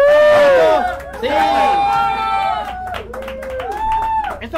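At a music event, a crowd cheers with long sung and shouted voices over scattered clapping, loud and close, with an excited shout of approval near the start.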